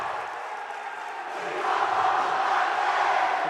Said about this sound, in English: the crowd is rocking here at Covenant College